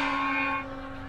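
A struck gong rings out with a bright metallic tone that holds steady, then decays partway through while a sustained hum lingers beneath, alone with no voices.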